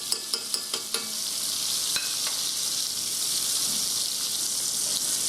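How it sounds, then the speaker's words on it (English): Thin-cut pork chops fry in a pan with garlic and butter, giving a steady, loud sizzle, with a few sharp clinks of stirring at the start and no talk. "get a little splash of butter on top of all those pork chops to help them cook"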